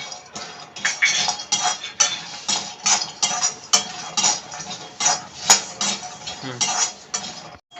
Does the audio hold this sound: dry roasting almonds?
yes